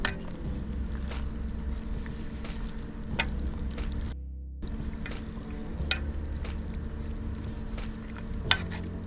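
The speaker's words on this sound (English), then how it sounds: "Now we're gonna add our clean spinach. Stir that in until it wilts." Spinach being stirred into a pot of sweet potato and sausage soup, with steady low bubbling and sizzle under faint spoon scrapes and a few clinks against the pot, and a brief lull midway.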